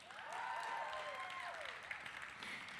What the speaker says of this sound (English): One more round of applause for Wealth.com.